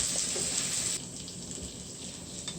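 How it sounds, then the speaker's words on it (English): Water pouring into an already heated cooking pot while a snapper dish is being made, a steady broadband splashing hiss that runs continuously and close, slightly easing after the first second. "Now we're gonna add some water."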